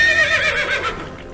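A single horse gives a loud, close whinny, a shrill wavering neigh that trails off over about a second.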